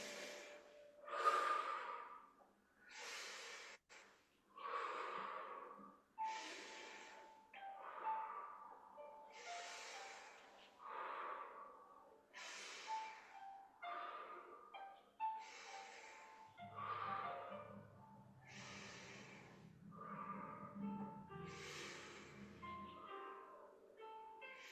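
Slow breaths in and out during a gentle qigong exercise, soft and close, coming as a steady series of separate inhalations and exhalations with quiet pauses between them, and no talking.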